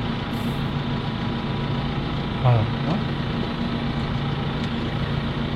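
A farm tractor engine idling, a steady low diesel rumble holding throughout, with a brief clunk midway and a person speaking briefly over it.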